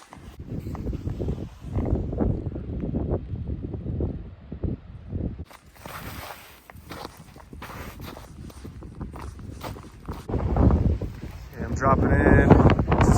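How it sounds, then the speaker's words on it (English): Strong wind gusts buffet the microphone during a rocky mountain descent on Cache Peak in southern Idaho, a steady roar with footsteps over rock and louder bursts near the end. "still getting blown over by the wind"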